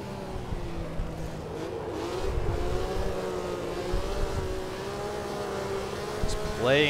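A 1950s Maserati 250F racing car in the Assetto Corsa racing game, its engine screaming at over 10,000 RPM under full throttle while drifting, a continuous high, wavering engine note that holds steady throughout.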